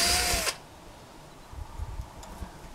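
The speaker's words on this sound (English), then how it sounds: "I'll just drill a hole in the leather." A power drill bores a hole through the leather of a medieval gauntlet during a repair: one loud, whining burst of about half a second that stops abruptly, followed by quiet handling noise.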